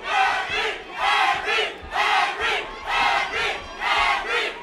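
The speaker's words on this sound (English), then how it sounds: "You can hear the fans chanting, Henry." Boxing fans at a charity bout chant the fighter's name Henri Hila in a loud, rhythmic call, four strong repeated two-part phrases swelling and falling in a steady pulse from a packed hall.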